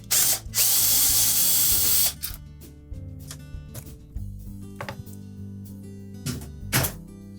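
A power driver removes a screw from the rear console of a Whirlpool range: a loud two-second whir, then clicks, ratcheting and metallic handling close by.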